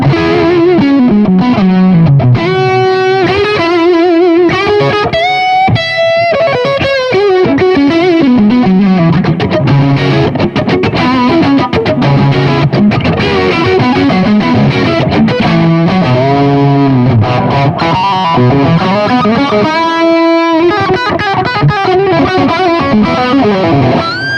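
Electric guitar played through an EL34 valve amp on its second channel in tight gain mode, loud and heavily distorted, with fast melodic lead lines, sustained bends and chugging passages running continuously without pause.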